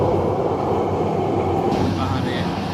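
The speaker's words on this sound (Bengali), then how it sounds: "ছোট বড় পাহাড়ের পাশ দিয়ে আমাদের ট্রেনটি কক্সবাজারের উদ্দেশ্যে এগিয়ে" Passenger train rolling between small and large hills past Chikni station on the Dhaka to Cox's Bazar line, a steady loud rumble of wheels and carriage noise throughout, with faint voices underneath.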